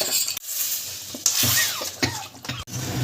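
A duck egg frying and being stirred in a pan, with a steady sizzle broken by several scraping stirs and light clinks of the utensil against the pan, close and fairly loud.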